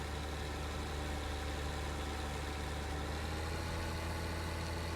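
The engine of a T8 tractor rated at 435 horsepower in the video game Farming Simulator 19, seeding a field. It gives a steady, low, droning hum that runs evenly throughout, with no talk.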